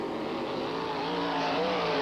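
Race cars on a dirt track, including a 360 sprint-type car, roaring at full throttle in a steady, loud engine drone that holds and builds across the whole stretch, with no talk.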